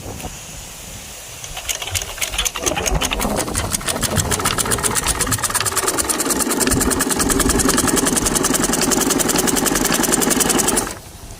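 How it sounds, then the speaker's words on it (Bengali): An electric sewing machine starts up and runs steadily, its needle stitching in a fast, even mechanical rhythm for several seconds before stopping abruptly. No one speaks. "এখন মেশিনটি চালিয়ে দেখাবো সেলাই কি ধরনের"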